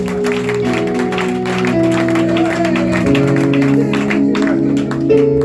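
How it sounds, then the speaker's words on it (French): A church congregation applauds and acclaims the Lord during a French-language sermon, with steady clapping and raised voices over sustained organ or keyboard chords. "Acclame le Seigneur si on est ensemble"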